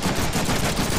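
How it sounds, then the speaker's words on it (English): Rapid gunfire from shooting enemies in the Deadpool video game, a loud, continuous burst of automatic shots filling the whole moment. "Hey, I'm shooting you."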